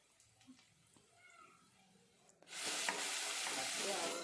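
Onions for mutton biryani go into a pan on a low flame; after a quiet start with faint handling noises, a sudden, steady sizzle rises and holds to the end.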